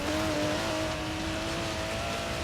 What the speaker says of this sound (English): look at me just destroying the foliage of my Supra from the mid-90s